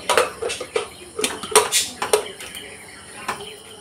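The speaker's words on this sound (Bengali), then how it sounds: "এবার প্রেশার কুকারের ঢাকাটা আমি বদ্ধ করে দিচ্ছি" Metal clanks and clicks several times as a pressure cooker lid is fitted and locked onto the cooker, close and fairly sharp.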